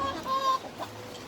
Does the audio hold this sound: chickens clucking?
yes